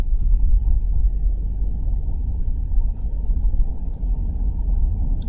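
Car on the road while driving, a continuous deep low rumble of engine and road noise with slight swells and a few faint ticks, no talking.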